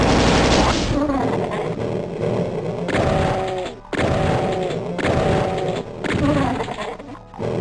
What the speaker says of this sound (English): emergency use of the plasma gun